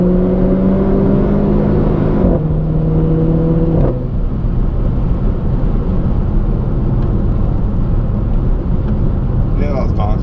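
Renault Clio RS 200 EDC with ITG induction pulling hard under acceleration, engine note rising through gears with a shift around two and four seconds, loud and steady throughout with a voice briefly near the end.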